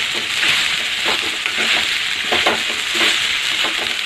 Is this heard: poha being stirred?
yes